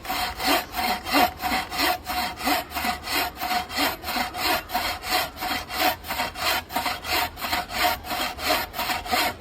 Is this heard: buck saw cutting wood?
yes